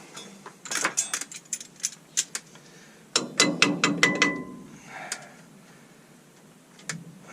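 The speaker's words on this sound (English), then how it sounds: "there's a bolt for the wheel cylinder. It should come out now." A ratchet wrench turns out a wheel cylinder bolt during a rear brake job on a 1973-87 Chevy C20, with bursts of quick, close clicking pawl sounds in short runs, then a pause and a final click.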